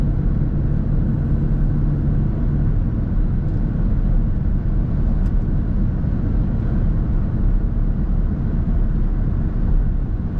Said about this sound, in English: Good acceleration in this truck.